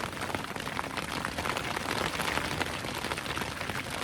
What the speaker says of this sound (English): It's really hailing now.